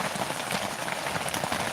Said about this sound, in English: Raining like crazy here.